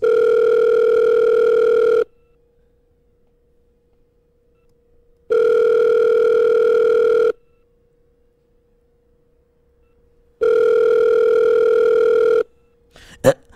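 A steady telephone dial tone sounds in three long bursts separated by silent gaps, ending with a brief click.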